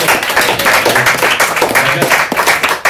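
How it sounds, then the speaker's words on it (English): An audience gives a round of applause at an evening talk, a steady, dense clapping that stays loud and close for the whole short stretch. "so lads, give them a round of applause."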